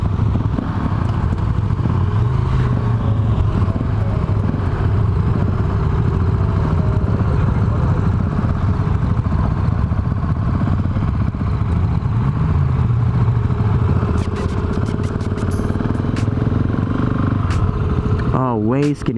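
A 2018 Husqvarna 701 Supermoto's engine runs loud and close in a steady drone, with occasional rises in pitch and a closing burst of revving, under a person talking.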